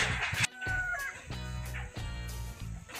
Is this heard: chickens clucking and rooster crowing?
yes